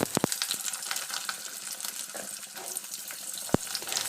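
Cut potatoes sizzle in hot mustard oil in a wok, a steady close hiss with a few sharp clinks of a spatula against the pan.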